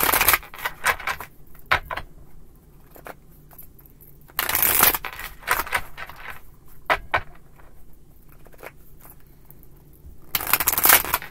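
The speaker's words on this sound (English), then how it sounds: "Three more shuffles." Tarot cards shuffled by hand in bursts of riffling and soft slapping, loud and close with short pauses between, no talk over them.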